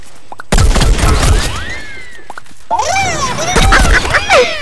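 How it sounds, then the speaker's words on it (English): Plants vs Zombies firework effects crack and burst loudly in two clusters, with rising whistling streaks and scattered sparkling pops, punctuated by a brief gap of near silence between bursts. "Firework."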